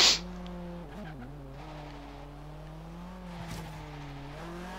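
Car drifting in Forza Horizon 3, a steady sustained tire squeal with a droning engine tone that dips and wavers briefly as the slide shifts, loud and continuous throughout.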